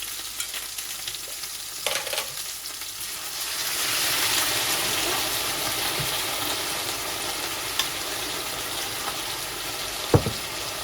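Tomato sauce hits a hot pan of Bosnian meatballs, sizzling and frying steadily, with a brief stir or clatter near the start and a sharp knock near the end.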